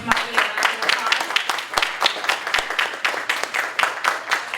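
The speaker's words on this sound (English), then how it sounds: "give Marty a round of applause" An audience applauds a speaker at the close of a talk, a steady run of scattered, fairly close hand claps lasting several seconds with talk mixed in.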